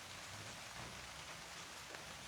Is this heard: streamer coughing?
no